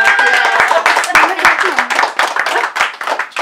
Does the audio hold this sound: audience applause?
yes